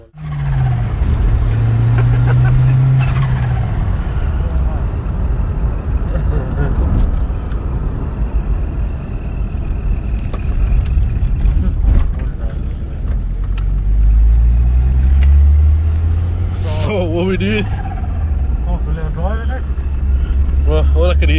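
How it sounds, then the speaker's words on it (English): A slammed, modified VW Golf Mk2 GTI with a 1.8T turbo engine conversion drives along with a steady low engine drone and turbo flutter, while people talk over it throughout. "all I can hear is that flutter"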